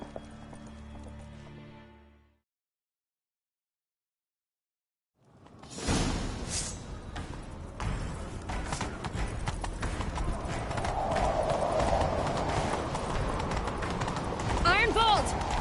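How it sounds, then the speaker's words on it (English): In the game Witcher 3: Wild Hunt, a horse gallops in a chase, a rapid clip-clop of hooves starting after a short silence and building steadily louder alongside whooshing movement. "Grab a horse, we'll chase him down."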